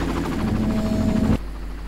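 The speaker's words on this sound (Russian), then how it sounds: "давай подождем, пока вертолет улетит" Helicopter hovering in the video game Far Cry, a steady loud rotor drone with a low hum that cuts off abruptly near the end, leaving quieter background noise.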